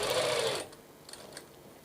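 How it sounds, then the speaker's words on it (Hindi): A sewing machine stitches blouse fabric in a short, fast burst of whirring needle strokes, close and loud for about half a second, then stops, leaving only faint handling clicks. "पहले मैं इसे यहाँ तक सिलूँगी"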